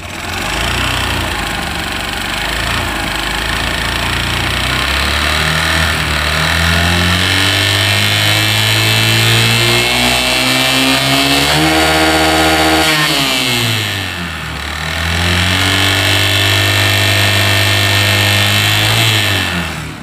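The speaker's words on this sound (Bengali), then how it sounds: "আমরা এখন ইঞ্জিনের সাউন্ড শুনবো।" A Honda Dream motorcycle engine with a loose piston runs loudly up close, its droning harmonic note rising, dipping briefly mid-way, then climbing again with a rough mechanical edge.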